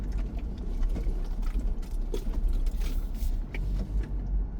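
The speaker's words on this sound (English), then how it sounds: "Put it in 4-wheel drive just in case." A 4-wheel drive vehicle crawls slowly over a rocky, riverbed-like trail with mud and frost heave, its engine a low steady rumble under crunching and knocking rocks and creaks from the body.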